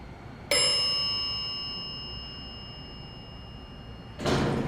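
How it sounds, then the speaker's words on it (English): A single bright chime from a 1980s Dover traditional hydraulic elevator rings out clearly at close range, its steady tones slowly fading over several seconds before a burst of door or mechanical noise follows. "And we'll listen to the bell, which does work."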